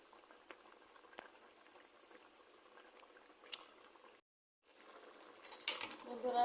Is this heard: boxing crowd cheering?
no